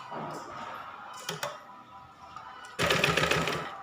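A sewing machine stitches a blouse, joining a belt section to the front panel; short bursts of stitching start and stop, closing with a louder, steady run of rapid mechanical clatter.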